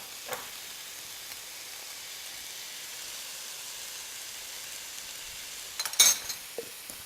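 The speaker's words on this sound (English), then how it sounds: "All right, stir that through." A pan sauce with salt added is stirred over heat, a faint steady sizzle running quietly throughout, with a brief louder burst of stirring scrapes and clinks near the end.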